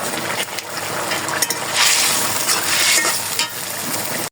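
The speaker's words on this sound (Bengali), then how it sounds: "এখন নেড়ে চেড়ে একটু জিরার গুঁড়া দিয়ে দেবো।" Food sizzles and fries in a pan as it is stirred, with scraping and hissing bursts close by while cumin powder goes in.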